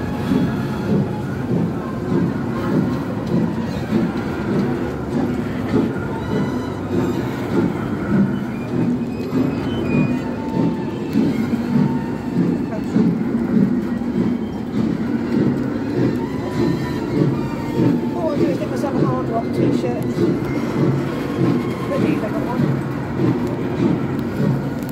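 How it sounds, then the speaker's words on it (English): Narrow gauge railway train at Europa Park pulling away, a continuous rumbling, clattering roll with rhythmic wheel beats and occasional squeals, crowd murmur and voices in the background. "Attention, please. The train is leaving."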